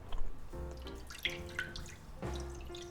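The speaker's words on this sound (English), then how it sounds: "we're going to add at least 2 cups of water" Water running into a cast iron skillet set on a medium burner for poaching eggs, a soft trickling and splashing pour heard close by and fairly quietly.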